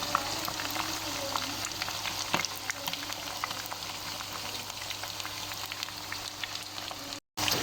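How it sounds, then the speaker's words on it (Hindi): Chicken pieces fry in oil over a medium flame for a Balochi chicken tikka karahi, turning golden. A steady, close bubbling sizzle runs throughout with small crackles and one brief dropout near the end. "ऑयल के अंदर इसे 5 से 7 मिनट के लिए मीडियम फ्लेम पे फ्राई करेंगे"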